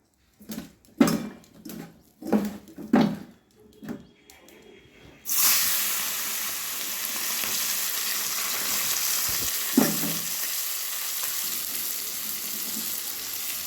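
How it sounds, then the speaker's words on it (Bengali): Mourola fish drop into hot mustard oil in a wok after a series of short knocks and clatters, then a loud, steady sizzle and bubbling continues close by with one brief clunk. "কড়াইয়ে সর্ষের তেল গরম করে নিলাম এবার মাছগুলো আমি ভেজে নেবো"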